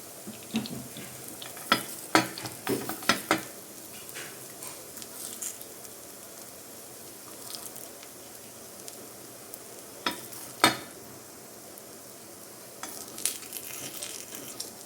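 Sweet corn gunta ponganalu fry in a gunta pan over a low flame, with a soft steady sizzle broken by scattered sharp clicks and taps of a utensil against the pan.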